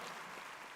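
Brief, steady burst of applause from a large audience at The Game Awards 2022 ceremony, a dense wash of clapping with no speech over it.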